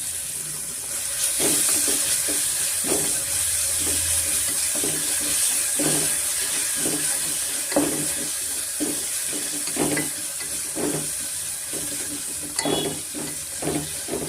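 Ginger-garlic paste fries in oil in a pan, a steady close sizzle punctuated by regular scraping strokes of a spoon stirring it, continuing evenly for the whole stretch with no voices.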